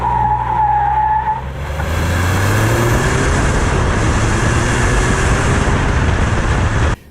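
A car accelerating hard in sport mode, a loud sustained engine drone with rising pitch and tire noise, close and steady throughout.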